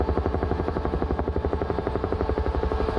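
A Huey helicopter in Microsoft Flight Simulator throbs with loud, steady rotor blade slap, a fast rhythmic thudding beat over a low engine drone, continuous and close.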